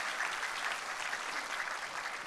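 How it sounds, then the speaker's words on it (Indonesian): A church congregation claps in sustained, even applause, a dense steady patter of many hands filling the room without voices. "Bisa dengar tepuk tangannya yang paling meriah buat Yesus Tuhan kita."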